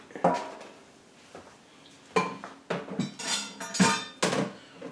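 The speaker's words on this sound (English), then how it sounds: "Get my utensils ready because that cheese is almost melted." A plate and utensils clatter in a home kitchen while an omelette cooks, with several sharp clinks and knocks scattered irregularly, fairly close and moderately loud, with quieter pauses between.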